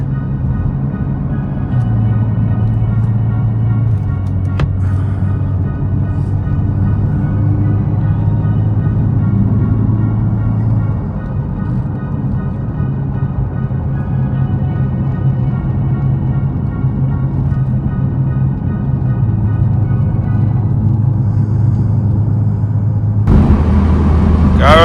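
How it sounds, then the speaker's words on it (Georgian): A car climbs Turkish mountain roads, its engine and road rumble a loud, steady drone that holds for the whole stretch and swells briefly near the end. "ესეთ გზებზე მოგიწევთ სიარული მანქანით როცა წამოხვალთ"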